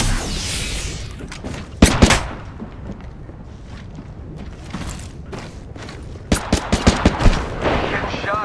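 Bursts of gunfire from the Apex Legends video game, a loud close volley near the start and a rapid cluster of shots toward the end, with quieter game effects between.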